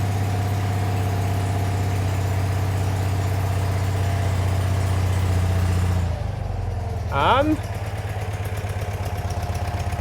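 A Citroen 2CV engine idles steadily with a low, even putter just after its first start following a top-end rebuild, then cuts out briefly before a short whining rev and settling again.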